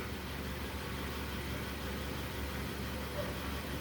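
A 2006 Nissan AD with the QG15 engine idles at a steady, even low hum, close and unchanging, with no voices.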